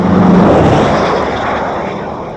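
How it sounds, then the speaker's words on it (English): A 1966 Oldsmobile Toronado engine makes a steady, full-bodied roar that slowly fades over a couple of seconds, heard alone without speech. "The sound of America's most advanced automobile."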